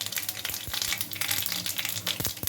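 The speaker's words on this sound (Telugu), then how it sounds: "ఆయిల్ వేడైందండి. మిర్చి కట్ చేసి వేసుకున్నాను. ఆవాలు, నెక్స్ట్ జీలకర్ర." Mustard seeds, cumin and cut chilli sizzle and crackle in hot oil, a dense close frying hiss full of rapid pops and spatters, with a few low thumps of stirring.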